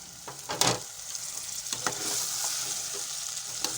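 Potatoes, tomato and green chili fry in a pan, a steady close sizzle with a few louder clatters of stirring, no voices.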